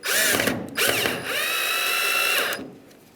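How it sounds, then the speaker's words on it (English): Power drill driving screws into the plastic taillight housing of a 1992-1996 Ford F-150, rising and falling whine in three close, loud bursts with short pauses between. "you're screwing into plastic"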